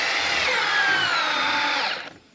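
A cordless drill on a nearly dead battery drives screws into wood, a steady loud whine holding for about two seconds before winding down and stopping.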